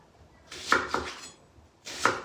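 A knife chops a shallot on a board in two short bursts, a pair of crisp thuds and then a single cut, close and clear with no talking.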